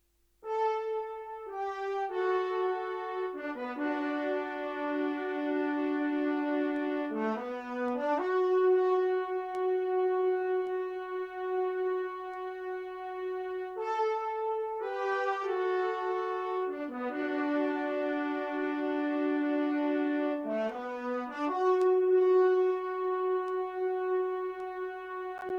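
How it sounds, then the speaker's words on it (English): Three horns play a 70s soul-style line together, two carrying the melody and one the harmony, in smooth sustained phrases with short bends between notes, repeating a second time, steady and moderately loud with no talk. "2 of the horns are playing the melody, and the other is playing the harmony."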